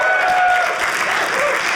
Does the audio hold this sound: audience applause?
yes